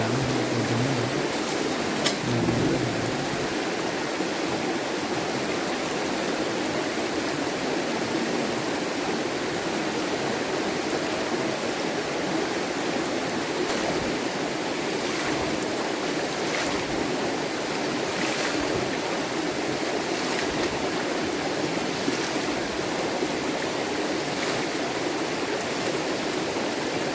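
Narmada river water at a forest bathing spot near Amarkantak, a steady loud rushing and gurgling flow, continuous and close with no voices.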